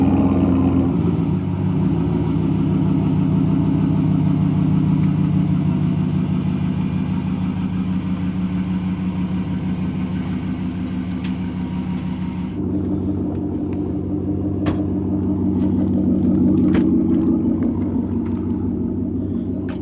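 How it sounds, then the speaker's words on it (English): Deep, rumbling Hemi V8 engine of a 2019 Ram Rebel with a throaty Borla exhaust, holding a steady loud drone, then dropping to a lower burble and swelling again. "Nothing sounds better than a Hemi with Borla exhaust, especially in the attack"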